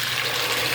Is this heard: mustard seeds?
no